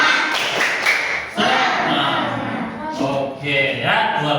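A primary school class doing a rhythmic cheer clap in a classroom, sharp bursts of group clapping in a patterned beat mixed with children's voices chanting along.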